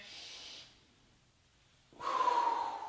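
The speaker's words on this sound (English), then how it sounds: "Breathing in" During a floor exercise routine, a person takes a sharp audible breath in, close and loud, after a brief exhale and a quiet pause.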